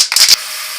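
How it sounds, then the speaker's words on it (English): Acrylic sanding sealer spray is sprayed onto a woodturned bowl in two quick, loud, close hissing bursts lasting about a quarter second in total, followed by quiet. "now I'm going to put on a couple of coats of acrylic sanding sealer spray"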